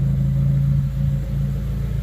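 A boosted Honda Civic EG engine idles steadily with a deep, even rumble and a slight wobble in its note, heard close up with no talking.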